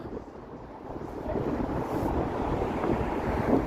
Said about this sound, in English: And it's super windy here